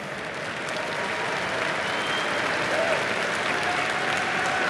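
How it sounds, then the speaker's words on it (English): Audience applause fills a large arena at The International 2024 finals (Team Liquid vs. Gaimin Gladiators), a dense, steady roar of clapping from a big crowd that holds at full strength throughout. "Please, a round of applause for them."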